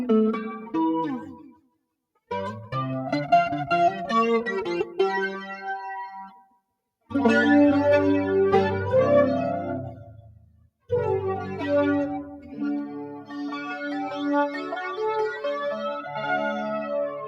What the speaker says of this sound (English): So that's it without any sort of gain or distortion.